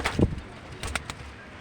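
Brief low cooing from a pigeon shut indoors during rain near the start, followed by a few faint scratchy sounds in a quiet space.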